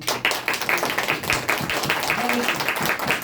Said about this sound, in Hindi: आपको अगर पसंद आया है तो आप जोर से ताली बजाएंगे